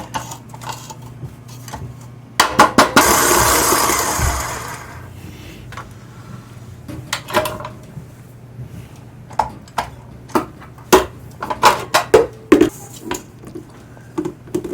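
An electric stand mixer creams butter, sugar and coconut oil in a mixing bowl, giving a whirring burst early on, followed by scattered clinks and scraping knocks against the bowl.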